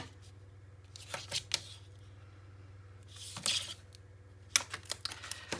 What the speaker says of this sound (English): Get my tape on.